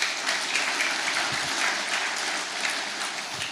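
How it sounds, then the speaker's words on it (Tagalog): A church congregation claps together, a steady moderate applause held for a few seconds without voices over it. "Sige po, tuloy natin ang palakpak."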